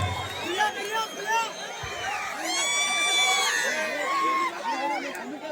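A crowd at a Ganesha festival stage show cheers, whoops and whistles to welcome a singer, with a swelling burst of excited voices mid-way and chatter throughout.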